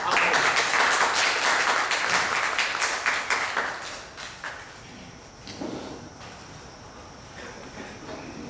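An audience claps to welcome a speaker onto the stage at a Telugu religious discourse in San Antonio, with loud, dense applause at first that thins and fades to scattered claps.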